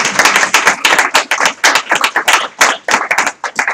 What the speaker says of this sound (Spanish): me vais a permitir que os dé un aplauso a vosotros por estar aquí